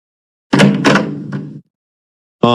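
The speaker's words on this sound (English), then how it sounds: "There's someone at the door banging." Loud heavy banging on a door from an animated scene comes in two or three forceful thuds close together, followed by silence and then a brief cut-off sound at the end.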